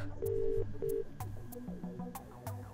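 A telephone is dialed in the adventure game Demetrios: two clear steady tone beeps come first, then a string of short, regular clicks and blips fades off quietly, with no voices over them.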